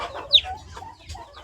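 Two newly hatched turkey chicks, survivors of an earthquake, giving thin high peeps and soft chirps close by in a quiet setting.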